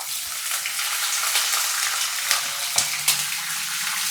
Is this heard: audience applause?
no